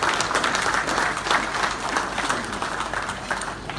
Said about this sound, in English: So a big round of applause to Farah